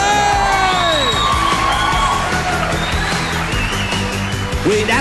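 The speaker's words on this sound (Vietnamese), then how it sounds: "Một tràng pháo tay cho Lê Dương Vũ Lâm ơi." A crowd at a university football match in Da Lat, Vietnam, cheers, whoops and yells continuously, loud and close, with shrill individual shouts rising over the din.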